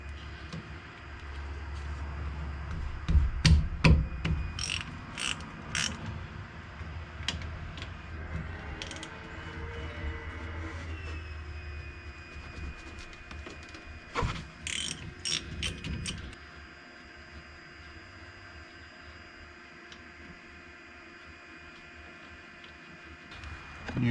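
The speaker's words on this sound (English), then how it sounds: "there's two bolts on the bracket. Those are 19s. So go ahead and pull those off." Ratcheting wrench clicks and metallic clanks as the 19 mm caliper bracket bolts come off the front brake of a Ford F-150, close and fairly loud in bursts, then fading to quiet workshop hum.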